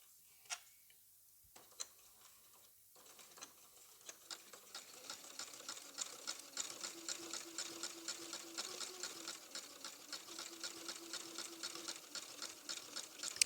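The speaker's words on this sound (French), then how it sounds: "je mets mon pied classique et je prends le mode zigzag pour surfiler mon ouvrage" A domestic sewing machine with a standard presser foot runs a zigzag stitch to overcast the raw edge of piping fabric, a quiet rapid mechanical ticking that starts hesitantly and then settles into a steady close whir with no talking.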